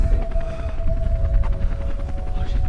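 A helicopter roars loudly nearby, a heavy low rumble with a rhythmic rotor throb and a steady whining tone above it, with no voices.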